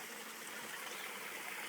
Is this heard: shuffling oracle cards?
no